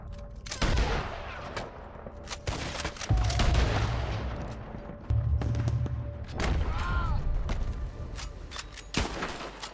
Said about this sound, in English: There's another cannon up ahead on our left.